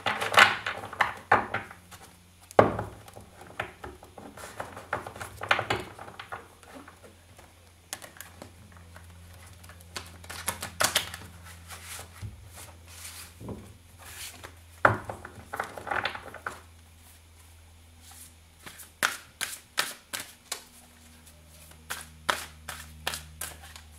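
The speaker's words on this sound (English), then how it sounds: "This one is a little hard to shuffle because it's too big for my hands" Crisp, irregular riffling and snapping of a large, oversized deck of tarot cards, bursts of fluttering clicks with short pauses between, close by with no talking.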